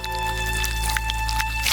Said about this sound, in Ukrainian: Наливаємо його в миску, а далі заповнимо ним шприц.